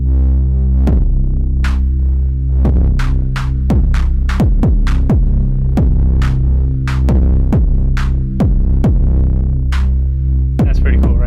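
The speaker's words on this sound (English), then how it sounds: "The 4MS Ensemble Oscillator has primarily like sine waves and a whole bunch of ways to manipulate them." A 4MS Ensemble Oscillator Eurorack module drones a loud, steady low tone with rich harmonics, punctuated by a series of sharp clicky pulses and brief pitch sweeps at irregular intervals, with no voices.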